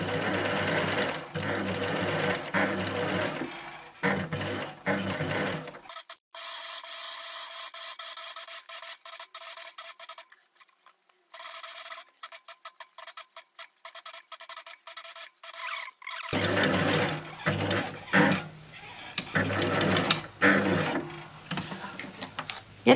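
A sewing machine straight-stitching a felt Santa boot whirs in long steady runs with a short pause between, close and loud, followed by rubbing and handling noises of the felt.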